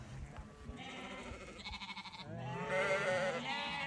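Sheep and lambs bleat repeatedly on a farm yard during a UK heatwave, several overlapping calls near and far, with louder wavering bleats building toward the end.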